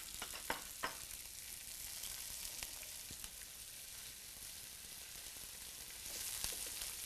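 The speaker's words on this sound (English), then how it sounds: "So at this point, why don't we saute the onions? This is about a half of an onion." Half an onion sautés in an already hot pan, giving a soft, steady sizzle with occasional small pops and crackles, quiet and continuous throughout without talk.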